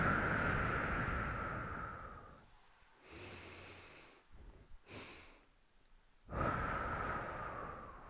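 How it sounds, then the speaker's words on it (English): During a Pilates breathing exercise, a person draws in deep audible breaths through the nose and releases a long airy exhale, close and clear, with quieter pauses between breaths. "Now, I'm just going to breathe it twice."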